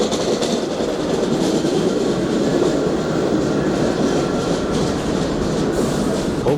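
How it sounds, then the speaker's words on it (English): A train pulls into a station with a steady, loud rolling roar of wheels on rails and a faint high squeal near the end, continuous throughout. "Here comes my train."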